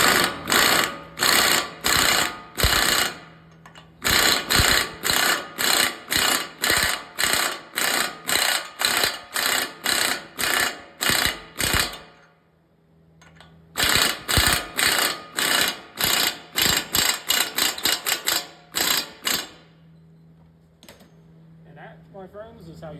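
A ratchet tightening the 36 mm axle shaft nut during rear wheel bearing replacement on a Ford Expedition: loud, close, rapid clicking strokes in rhythmic bursts, with a short pause between two long runs and a quieter end.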